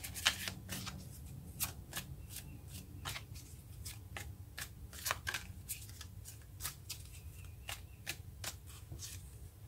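Tarot cards being shuffled by hand in a steady run of crisp riffling snaps and flicks, about twenty sharp bursts across the stretch, close and fairly quiet over a low background hum, with no talking.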